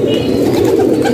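Several breeding pairs of domestic pigeons coo together in a dense, loud, close-up murmur that runs without a break and with no talk.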